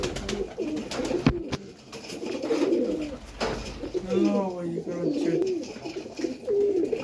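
Pigeons coo in soft, rolling repeated calls close by, mixed with someone talking and general outdoor background noise.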